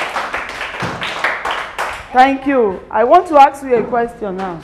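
A classroom audience claps for a student in a short burst of applause, heard first under and around speech, then a person talks over the tail of it.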